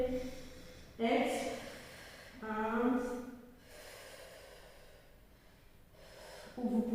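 During a Pilates abdominal workout, an instructor breathes audibly in and out in slow, forceful exhales and inhales, a few seconds each, close to the mic and mixed with her voice.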